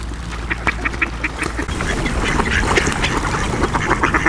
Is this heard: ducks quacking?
yes